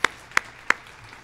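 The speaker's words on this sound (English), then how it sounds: "He deserves a hand of applause" Three slow, distinct claps at a town hall, sharp and evenly spaced, rather than a full burst of applause, over quiet room tone.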